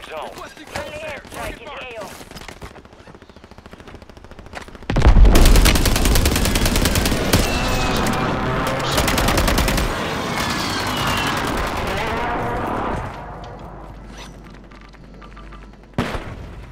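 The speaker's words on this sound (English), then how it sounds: "Shooting at everything." Video game battle royale gunfire, with rapid bursts of automatic shots crackling loudly for several seconds after brief player talk, then fading into quieter game noise with a final sharp shot near the end.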